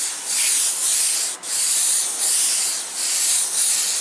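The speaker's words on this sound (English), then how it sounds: "I kind of like the airbrush." An airbrush spraying paint gives off a continuous close, bright hiss that is steady and loud, with a few brief dips where the flow eases. No voices are heard.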